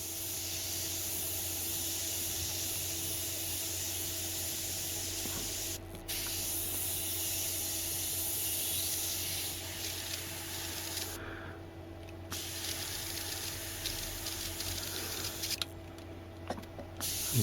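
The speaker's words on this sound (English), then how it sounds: "It's definitely spraying better." Continuous close hiss of a Badger Xtreme Patriot 105 airbrush spraying paint, with brief interruptions and small mechanical clicks, steady and fairly quiet throughout.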